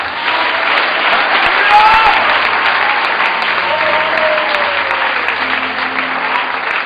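A church congregation breaks into sustained applause that stays loud and steady throughout, a dense wash of clapping with a few faint cheers and voices rising through it.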